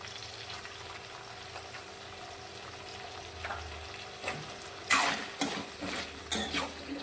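Peeled, cut potatoes sauté in oil over a high gas flame, a soft steady sizzle with a few louder scraping stirs and clinks of the pan near the end, no voices.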